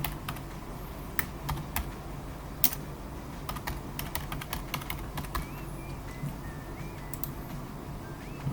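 Fingers typing a name on a computer keyboard, a quiet run of quick, irregular key clicks with short pauses, close-up and alone.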